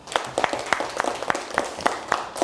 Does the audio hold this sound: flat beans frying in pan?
no